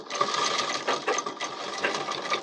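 Sewing machine running steadily as it stitches the seam of a small child's pathani kurta, a close, continuous fast mechanical whir with a fine rhythmic stitching rattle.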